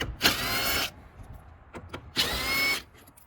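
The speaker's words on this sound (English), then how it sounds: "So we're gonna undo the 3 bolts holding down the air duct." Power tool spinning off 10 mm bolts holding down a Nissan air duct, heard as two loud close whirring bursts of about half a second each, separated by faint taps and handling noise.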